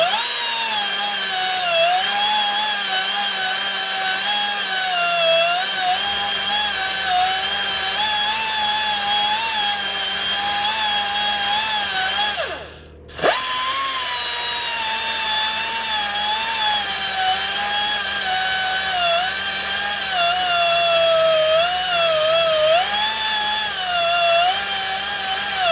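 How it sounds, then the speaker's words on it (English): A power grinder cuts down a motorcycle chain in one sustained, loud whining grind with a steady pitch that wavers slightly, broken by a brief pause near the middle before resuming, with no talking. "So let me go ahead and grind this down."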